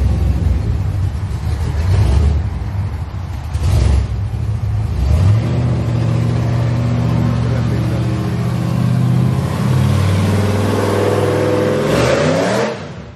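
A pickup truck's 454 V8 engine with a 400 transmission runs and revs, rising and falling in pitch with a deep steady rumble, loud and close, no talking.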